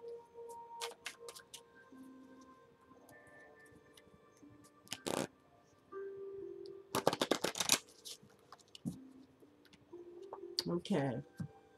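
Oracle cards shuffled in several crisp, rapid riffling bursts, close and fairly loud, with a short talking voice and scattered softer handling noises between them.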